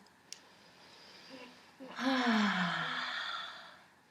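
Slow deep breathing during a parent-and-baby yoga session: a soft breath, then a longer, louder sighing exhale with a faint voiced tone, heard close with no talk.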